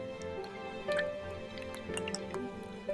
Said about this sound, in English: I add oil.